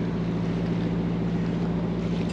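Gusty wind buffets the microphone out on the Norfolk Broads in July, a constant loud rumble with a low engine-like drone underneath and no pauses.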